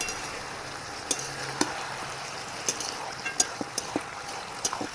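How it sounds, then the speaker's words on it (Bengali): Vegetables with ginger garlic paste are sautéed in a pan, giving a soft continuous sizzle broken by intermittent spoon scrapes and taps against the pan, close and moderately quiet, with no speech. "এই আদা রসুন বাটাটা দেওয়ার পরে আবারও কিছুক্ষণ এটা কষিয়ে নেব খুব সুন্দর করে"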